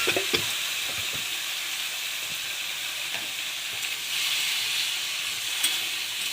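Potatoes and pumpkin greens with a dried chili fry in a hot pan, a steady close sizzle and hiss with occasional stirring clicks running throughout.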